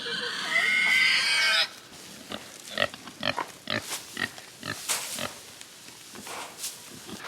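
A loud chicken squawk opens, then pigs grunt and snuffle in short bursts alongside occasional clucks, close by in a farmyard.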